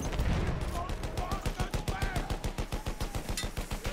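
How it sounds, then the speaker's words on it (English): A machine gun in Battlefield 1 fires a long, steady rapid stream of shots, about six per second, loud and close, with battlefield voice callouts faintly underneath. "Machine gun over there."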